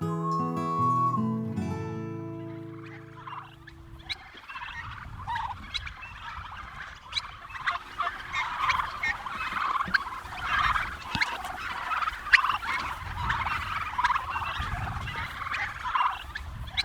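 Turkeys gobbling in a flock, many rapid overlapping gobbles and warbling calls going on steadily and fairly loud, after a brief burst of music at the start.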